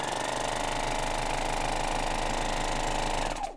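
A Babylock serger threaded for a 2-thread flatlock stitch runs with a fast, steady mechanical chatter up close for about three seconds, then winds down and stops.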